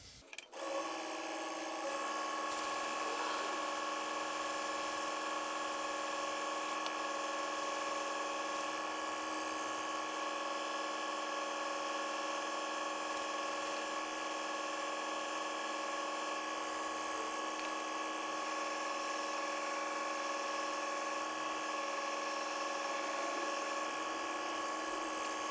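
A handmade pen is polished with fine abrasive grits, giving a steady high-pitched whine from a spinning lathe that holds evenly throughout with only tiny ticks, and no talking.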